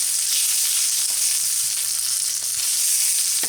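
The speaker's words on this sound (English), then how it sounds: "We're just going to brown these up a little bit, get a nice crispy coating on them so they look more appetizing." Bratwursts brown in a hot pan with a steady, loud, close sizzle that runs without a break, along with a few faint clicks and scrapes and no voices.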